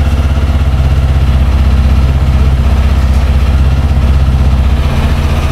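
A TVS Apache 160 4V Special Edition 2022 motorcycle runs during a vibration test, a loud, close, steady single-cylinder engine drone with a fast regular pulse, no voices.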